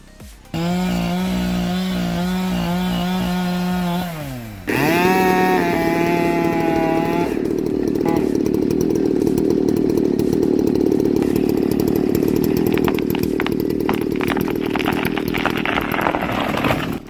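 A chainsaw cuts into a tree, droning loudly with a steady engine whine that drops and then rises again as it revs and bites into the wood, holding a harsh continuous buzz to the end.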